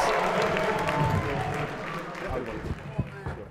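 A crowd makes noise at a basketball event, a loose mix of cheering and clapping with scattered thumps, and voices talking over it, fading somewhat toward the end.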